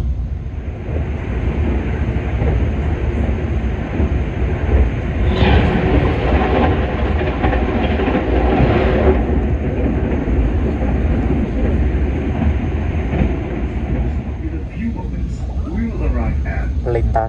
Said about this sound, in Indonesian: Berpapasan dengan kereta api Argo Merbabu dari stasiun Gambir tujuan akhir stasiun Semarang Tawang